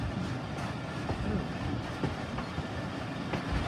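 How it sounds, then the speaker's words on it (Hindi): The 115 UP Musa Pak Express rolls toward a platform on the Multan to Lahore route, a steady close rumble of wheels and carriages with faint rhythmic clacks and no speech. "तो दोस्तों प्लेटफॉर्म नंबर 1 पर जा रही है ट्रेन हमारी।"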